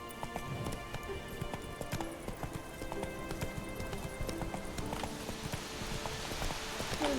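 A horse gallops in the video game Witcher 3, its rapid, rhythmic hoof clip-clops steady and fairly quiet throughout, with faint game ambience beneath.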